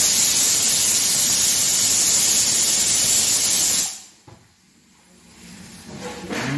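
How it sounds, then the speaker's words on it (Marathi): Raw jackfruit pieces frying in hot oil with a splash of salt water, a loud, close, continuous hiss and sizzle that cuts off abruptly and is followed by quiet, faint background noise. "गरे तळतोय, त्यामुळे तेलाचा रंग जरा बदलला आहे"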